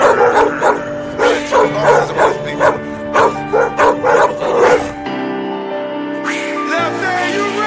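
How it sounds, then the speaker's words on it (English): Dog barks and yips punctuate a rap song, rhythmic bursts over a steady beat, followed by a whimpering dog effect near the end; loud and upfront in the mix. "in the beginning, I want some like dog growl"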